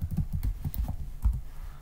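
A few quick keystrokes on a computer keyboard, entering a command in drafting software while laying out handrails and guardrails. Close and brief, with no voice.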